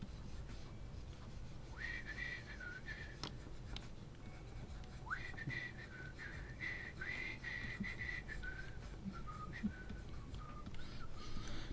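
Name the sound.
quiet whistling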